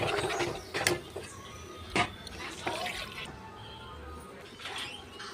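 Water splashes into fish curry masala cooking in a pan, giving a few loud sizzling, bubbling bursts over steady kitchen background noise.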